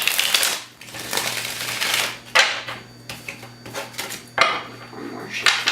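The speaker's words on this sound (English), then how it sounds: "One more shuffle." Tarot cards are shuffled in bursts of crisp riffling and clacking, several quick rounds with short pauses between them, close and fairly loud.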